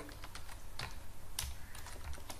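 Fast typing on a computer keyboard, a close run of crisp, uneven key clicks with a few louder strokes, steady for a couple of seconds with no voices.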